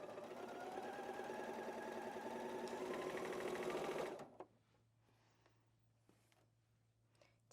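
Sewing machine stitching a quarter-inch seam on a patchwork baby bib, a steady close whirring chatter for about four seconds that stops abruptly, followed by a low hum and quiet handling sounds.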